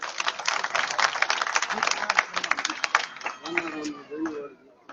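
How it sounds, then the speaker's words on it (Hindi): Loud, dense crowd clapping greets a turban-wearing honoree at an outdoor welcome ceremony in Bhadra, then thins out toward the end. "आदरणीय श्री पूर्णमल जी सैनी साफा पहना करके अभिनंदन करते हुए जोरदार तालियां।"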